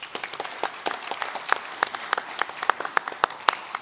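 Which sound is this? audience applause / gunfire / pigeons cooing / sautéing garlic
audience applause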